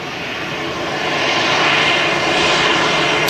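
Loud, steady roar of an aircraft engine at Manchester Airport, a broad continuous rumble and hiss that swells slightly over a few seconds, heard alone and close without speech.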